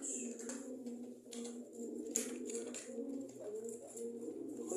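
A pigeon coos softly near its nest in a cage, low repeated throaty coos in a steady rhythm, faint and close, with light rustling and no talking.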